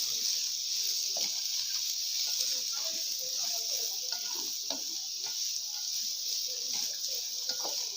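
Chicken tikka macaroni in white sauce being mixed in a pan, with soft scraping and stirring clicks over a steady sizzling hiss, moderately close and continuous throughout.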